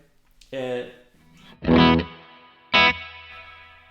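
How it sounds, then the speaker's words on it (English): Electric guitar played through a Victory V40 Duchess amp with its reverb set around eleven o'clock rings out in three separate struck chords, each bright and distorted with a lingering tail. "See, that's quite a lot of reverb, and that's only 11 o'clock"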